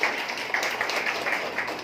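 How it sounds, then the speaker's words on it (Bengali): Applause and clapping from an audience at a Bijoya gathering and motivational meeting, a short burst of many hands clapping together, fairly close and steady throughout. "স্যারের জন্য একটা জোর হাততালি হয়ে যাক"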